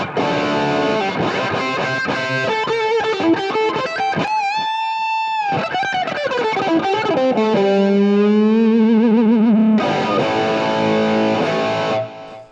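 A heavily distorted electric guitar on the bridge pickup plays loud, sustained chords and bending single notes, with a brief gap midway before crunchy chords return; no talking.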